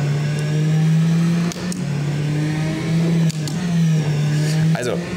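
Sustained car engine drone in a racing simulator, held at a steady pitch with slight dips as the revs shift, loud and continuous throughout.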